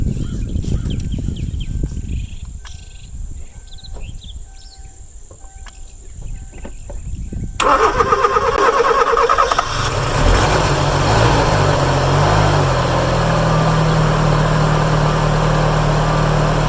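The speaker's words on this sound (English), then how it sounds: "So we're gonna see if the Pelsee will jump off this little SUV." Crickets chirp outdoors, then a small SUV's engine, jump-started with a Pelsee portable jump starter, cranks and catches into a loud, steady idle that runs to the end.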